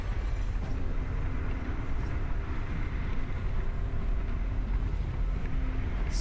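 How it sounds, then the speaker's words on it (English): A train rolls past in the game Virtual Towers Online, a steady, heavy low rumble that holds at an even level throughout without any break. "Just waiting for a train to go past."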